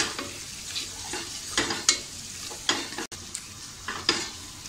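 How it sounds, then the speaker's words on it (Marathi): Masala with coriander sizzles in hot oil for a lentil (masoor) pulao, and a spoon stirs and scrapes the pan in repeated strokes, with a steady frying hiss between them. "2 मिनटं आपण हा मसाला छान एकदम परतून घेऊया, त्याला एकजीव करून घेऊया"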